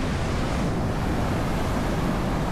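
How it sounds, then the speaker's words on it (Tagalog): Strong ocean waves crash and surge at a beach resort, a loud, continuous roar of surf mixed with wind buffeting the microphone, with no voices heard. "Ang lakas ng alon guys."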